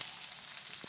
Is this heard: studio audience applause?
no